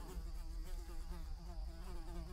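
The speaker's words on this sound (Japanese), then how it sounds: "ハエの音を頼りに行く感じやな" A housefly buzzes steadily and close in the horror game 9Childs Street, a continuous droning hum with a slightly wavering pitch, heard alone without any talk.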